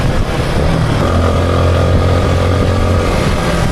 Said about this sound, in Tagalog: Gamay na gamay ni John Ray yung motor.